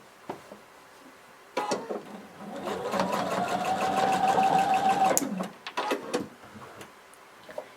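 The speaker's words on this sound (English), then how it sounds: "we're going to sew across the bottom of it" A sewing machine runs a steady, continuous stitch for several seconds across a folded half-inch fabric hem on a cardigan belt loop, close and clear, bracketed by fabric handling clicks and rustles before and after.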